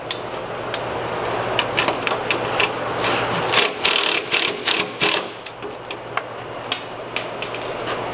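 Rapid ratchet clicks in short bursts as a Fox 2.0 performance shock bolt is tightened on a Chevy Express van, close and distinct, with a steady low hum underneath.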